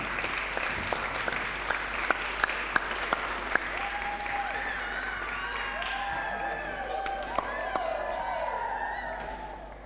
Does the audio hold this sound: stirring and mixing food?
no